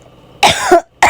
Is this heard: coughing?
yes